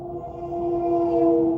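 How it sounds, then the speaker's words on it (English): A train passes at a distance, its horn sounding as a sustained steady tone that grows slightly louder, with no talk over it. "Y'all hear the train?"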